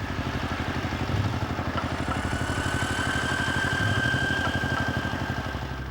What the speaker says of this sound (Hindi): राजा ठाकुर का ट्रैक्टर बुआई कर रहा है।